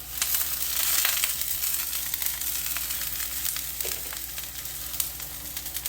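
Onions fry in a pan with a steady, dense sizzle and crackle that holds at a constant level throughout, with no voices over it.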